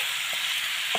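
Ash gourd with goat meat sizzles steadily in a pan at close range, while a couple of soft stirring scrapes break through the hiss.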